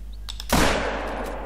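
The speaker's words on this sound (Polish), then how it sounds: "Ależ ten strzał był słaby." A single sharp rifle shot in the video game theHunter: Call of the Wild, on a New Zealand reserve, a sudden loud crack followed by a long decaying rumble, preceded by a couple of faint clicks.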